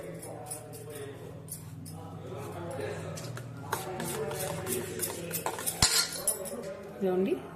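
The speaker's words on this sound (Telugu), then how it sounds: "ఇందులోకి మనం కట్ చేసుకున్న ఆనియన్స్, చిల్లీస్, కొరియాండర్ అన్నీ మిక్స్ చేసేద్దాము." Chopped onions, chillies and coriander stirred together in a bowl, with a steady run of spoon-on-bowl clinks and scrapes that grow busier toward the end, heard close up alongside a person talking.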